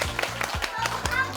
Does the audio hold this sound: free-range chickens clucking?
no